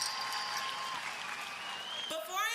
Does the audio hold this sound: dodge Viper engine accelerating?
no